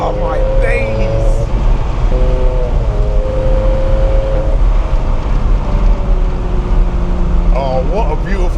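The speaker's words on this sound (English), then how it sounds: "Oh, what a beautiful day for a drive in a Ferrari 360." A Ferrari 360 Modena cruises with a loud, steady engine drone and road roar filling the cabin throughout, while people talk over it.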